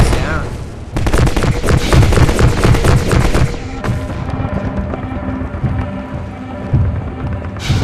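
Rapid bursts of gunfire aimed at Striders in the Half-Life 2 video game, loud and dense for several seconds, then tapering into scattered shots over a busy game-world backdrop, with another volley near the end.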